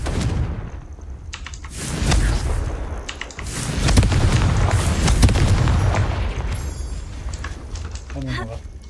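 A Confringo fire spell goes off in Hogwarts Legacy with a deep booming blast amid game noise and a voice shouting over it, followed by further rumbling impacts.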